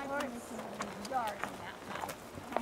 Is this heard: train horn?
no